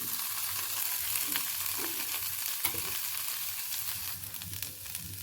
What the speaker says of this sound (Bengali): এরপর আমি এর মধ্যে দিয়ে দেবো ম্যারিনেট করা চিকেনগুলো।